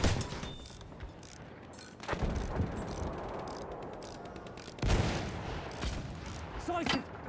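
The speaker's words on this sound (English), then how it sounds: "There's an enemy machine gun!" An enemy machine gun fires in Battlefield 1 amid a dense battle soundscape, with rattling bursts and heavy booms swelling and fading under shouted voices.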